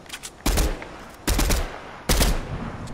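Fortnite gunfire crackles out in three sharp, loud volleys roughly a second apart, each a short rattling burst with quieter gaps between.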